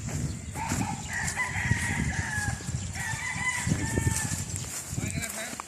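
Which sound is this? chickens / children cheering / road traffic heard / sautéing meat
chickens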